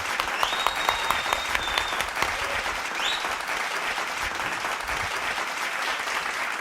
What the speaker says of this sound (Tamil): கைத்தட்டுங்க சார்